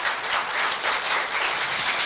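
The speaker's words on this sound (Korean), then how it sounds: "큰 박수 부탁드립니다." Dense, steady applause from an audience at a university health forum after a professor's talk, loud and continuous with no voices over it.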